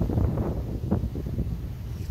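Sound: wind on a ferry deck

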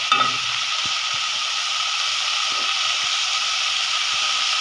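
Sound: malabar spinach seeds and lentils added to frying spice paste

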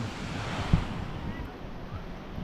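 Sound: sea waves at the beach

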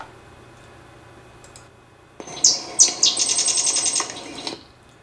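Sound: sedge wren call recording

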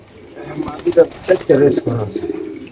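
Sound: pigeons cooing

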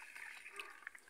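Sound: hand stirring water in a basin holding fish fry

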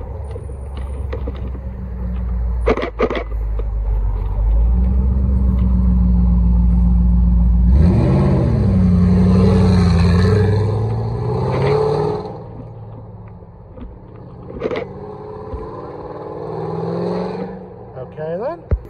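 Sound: Ford GT supercar engine revving and passing by

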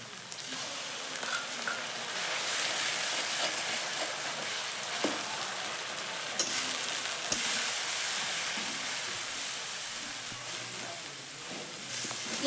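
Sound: onion, ginger and garlic frying in a pan

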